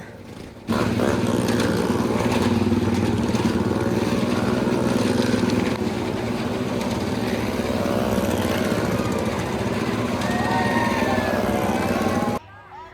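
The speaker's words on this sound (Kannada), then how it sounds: "ಈ ಮರಣ ಬಾವಿಯಲ್ಲಿ ಬೈಕ್ಗಳ ಗರ್ಜನೆ ಆಲ್ರೆಡಿ ಶುರುವಾಗಿದೆ" Motorcycles roar continuously inside a Well of Death stunt show at the Mundgod fair, a dense, loud engine drone with rising and falling revs, crowd noise mixed in, ending abruptly.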